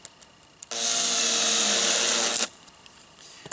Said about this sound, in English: go ahead and install that little rubber grommet onto the wood screw, and then very carefully get it started